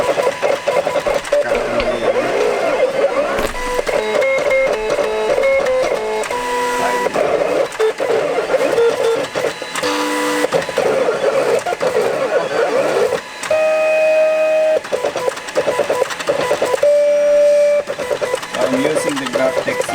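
A GrafTech CE Lite 50 vinyl cutter slices heat transfer vinyl with a steady mechanical whir and stuttering, beeping-like tonal motor pulses as the blade carriage moves, with a voice talking over it.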